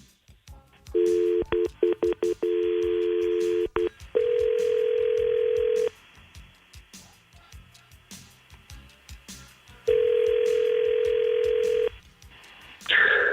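A phone line plays a rapid series of dialing tones, then two long ringback tones with a pause between them, all close and clear.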